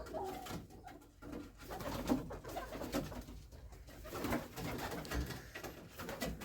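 Pigeons coo continuously nearby, soft throaty calls overlapping in a low, steady murmur.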